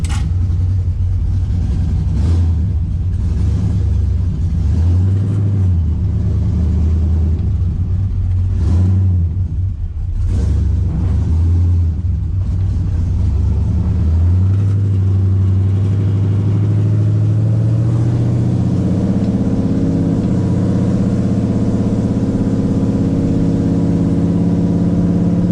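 LS-powered OBS truck on the road, engine note rising and falling through several accelerations with deep rumbling, heard loud from inside the cab before settling into a steadier cruise.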